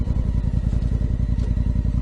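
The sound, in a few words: Honda Africa Twin motorcycle riding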